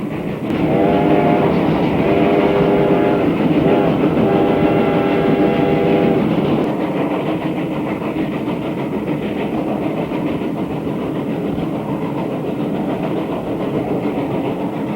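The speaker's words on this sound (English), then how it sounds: "another Camelback consolidation powers a freight train through Joanna." A Reading Railroad Camelback consolidation steam locomotive works past hauling a freight train through Joanna, whistle sounding early on over a steady, rumbling chuff and rolling wheel noise.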